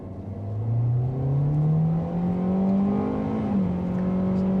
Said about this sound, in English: Definitely a noisy engine that reminds you you're driving an economy car.